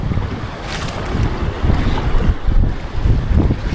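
Strong wind roars across the open sea around a fishing boat, a steady broadband rush with waves slapping the hull and gusty microphone buffeting throughout, loud and continuous with no voices.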